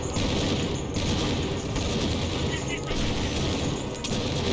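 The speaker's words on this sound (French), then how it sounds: "Là, je vais mettre Follet à la mitrailleuse." Sustained machine-gun fire from a Conflict: Desert Storm video game battle, a dense, continuous rattle of rapid shots with mechanical clatter running throughout, loud and close.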